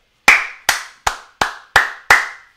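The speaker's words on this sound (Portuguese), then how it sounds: "Palmas pela partida, palmas pelo jogo." Six sharp, close hand claps in a slow, even rhythm, each with a short ringing tail, alone without talk.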